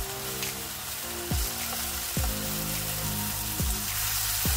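Chicken pieces for a paratha roll sizzle steadily in a hot pan as they cook on their second side, with a constant frying hiss and a few low thumps from handling, and no voices.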